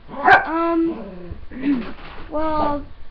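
A dog close by lets out three short, whiny barks or yips with brief pauses between them.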